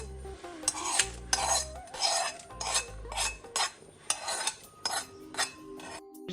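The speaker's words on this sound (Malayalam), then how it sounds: "ഈ തേങ്ങാക്കൊത്തും കാഷ്യൂനട്ടും കൂടെ ഇട്ട് കൊടുക്കാം. നമുക്ക് തേങ്ങാക്കൊത്ത് ഇരിക്കുന്ന നെയ്യോടുകൂടെ ഒന്നിച്ചാണ് ഒഴിച്ചു കൊടുക്കേണ്ടത്." Ghee-fried coconut pieces and cashews going into payasam, heard as a series of metal spoon scrapes, clinks and stirring knocks against a pot, with low thumps early on.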